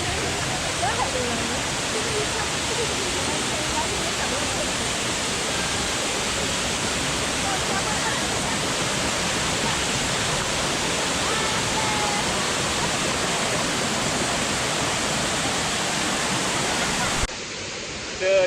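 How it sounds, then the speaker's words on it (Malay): Kemensah waterfall in the Malaysian forest roars as a constant dense rush of falling water, loud and steady for the whole stretch, with a voice faintly speaking under it before a brief pause at the end. "Kita dah sampai air terjun yang kedua. Ni air terjun Karin."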